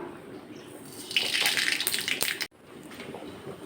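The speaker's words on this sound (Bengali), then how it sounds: "তেল গরম হয়ে গেছে, এবার দিয়ে দেব সর্ষে।" Mustard seeds dropped into a little hot oil give a bright, hissing sizzle that swells for about a second and a half and then cuts off abruptly, leaving a quieter background.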